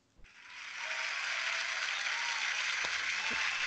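Crowd applause effect swells in after a brief click, rising within a second to a steady, loud wash of clapping that holds to the end.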